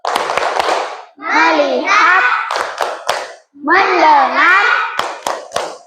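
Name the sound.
rhythmic classroom 'focus clap' group clapping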